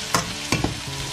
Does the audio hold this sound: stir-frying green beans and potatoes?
yes